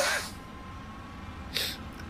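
A single quiet sneeze at the start of a gaming session, a short sharp burst followed by a faint second breathy puff, heard alone against low background hum.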